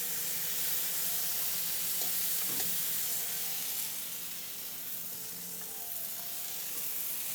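Flat iron steak sizzles steadily in a hot pan just after being flipped, a constant close frying hiss with faint pops and spatters throughout, no voices.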